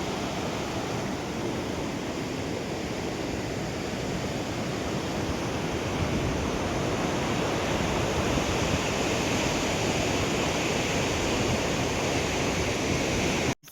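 Loud, steady rush of river water pouring beneath a bridge on a high mountain trek, a broad continuous roar filling the whole span without pause, alone with no voices, cutting off abruptly at the end.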